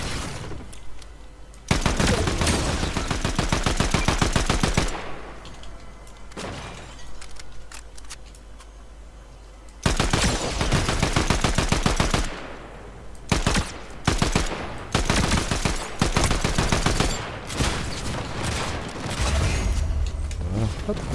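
Rapid automatic gunfire and bursts of shots in the video game Fortnite, loud and near, coming in long volleys with short pauses, under intermittent game sounds.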